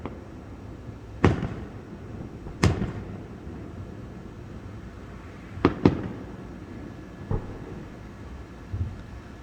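Distant fireworks go off outdoors as a scattered series of sharp booming bangs, about six loud reports with some in quick pairs, over a low steady background rumble.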